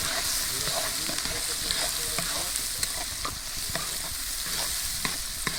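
Chopped onion sizzles in melted pork lard in an outdoor cooking pot for Transcarpathian bograch, with a constant steady frying hiss and intermittent spoon scrapes and clicks as it is stirred.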